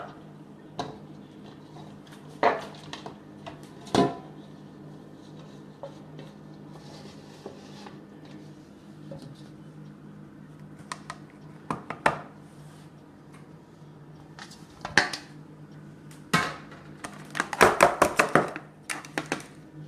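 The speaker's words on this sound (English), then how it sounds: "I'm just cleaning my spoon here, my wooden spoon" A wooden spoon taps and clacks against a cooking pot in a home kitchen while baking spiced bun, sharp knocks scattered irregularly over a quiet background, ending in a quick cluster of rapid raps.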